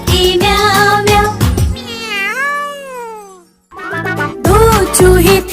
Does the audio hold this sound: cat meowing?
yes